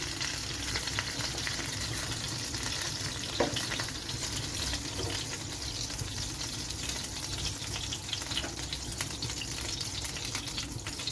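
Chicken pieces fry in a pan, a steady, dense sizzle and crackle that holds evenly throughout, close and fairly loud, with no talking.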